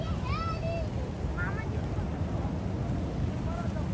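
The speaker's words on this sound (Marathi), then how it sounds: "समुद्राचं पाणी बघ किती खवळलेलं आहे" Constant roar of rough monsoon surf and wind on a Goa beach fills the clip, with a few faint bird whistles above it.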